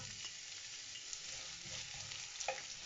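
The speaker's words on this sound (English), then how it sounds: "Now I'm gonna put my onions in." Onions frying in preheated oil for Jamaican ackee and saltfish, a soft, even sizzle heard up close and fairly quiet, with faint stirring scrapes and no talking.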